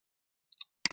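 Two quick computer mouse clicks in close succession, a faint soft tick followed by a sharper, louder double click near the end, otherwise silent.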